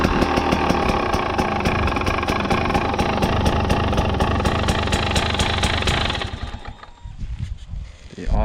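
A KTM motorcycle engine idles steadily and close, with a rhythmic mechanical pulse that cuts out near the end, leaving quieter rustling and handling noise.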